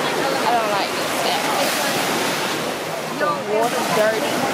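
Surf washing steadily onto a beach with dirty water, a continuous broad rushing roar of waves close by, with wind buffeting the microphone throughout.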